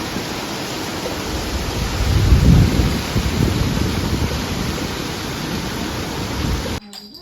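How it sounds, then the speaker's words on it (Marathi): Heavy monsoon rain pours in a dense, steady roar with a deep rumble of thunder swelling partway through, then cutting off abruptly. "पाऊस बघा"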